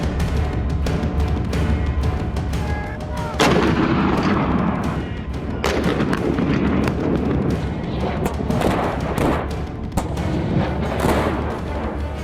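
Artillery fire during a Chinese military exercise, a loud, continuous barrage of booms and thuds layered over a heavy rumble, with sharper blasts punching through for the full length.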